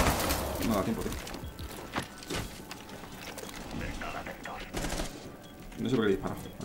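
Gunfire from the video game Rainbow Six Siege comes in short bursts and scattered shots under a player talking and game audio, fairly faint in the mix.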